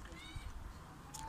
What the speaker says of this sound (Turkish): Sonra da siyah kediler kavga ediyor.